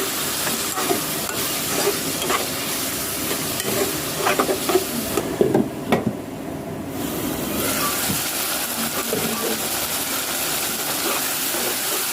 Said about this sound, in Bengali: পেঁয়াজ টমেটো কাঁচামরিচ সব সেমভাবে আমি লবণ দিয়ে একটু সফট করে নিছি।